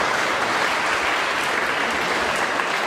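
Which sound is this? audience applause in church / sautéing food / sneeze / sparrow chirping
audience applause in church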